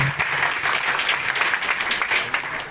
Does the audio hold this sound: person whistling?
no